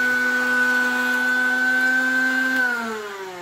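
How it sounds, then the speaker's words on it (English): An electric meat grinder motor whirs steadily and loud, with no meat left in it to grind; near the end its pitch shifts as the motor ramps up. "if you heard the motor ramping up, it basically means there's nothing in here to grind anymore"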